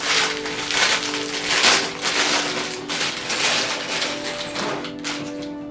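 Plastic crinkles and rustles steadily as LEGO set bags are handled and pulled open, with a faint steady hum underneath and no talking.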